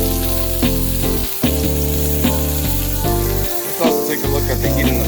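A steak sears in a very hot pan at about 440 degrees after a cold start, giving a steady, loud sizzle and fry crackle throughout, with a few brief dips and clatters from handling.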